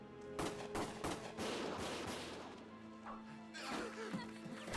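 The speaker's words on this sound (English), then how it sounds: "Gunfire!" Rapid bursts of video game gunfire crackle in dense volleys, loud and close, with brief lulls between clusters of shots.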